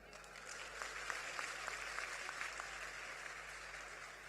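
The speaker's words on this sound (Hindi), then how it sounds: "भारत देश से जो प्यार करता हो ताली बजा रहा है।" A crowd at an outdoor comedy evening during a district festival in Kanpur Dehat applauds, a steady wash of clapping heard from some distance, holding level for several seconds over a low background hum.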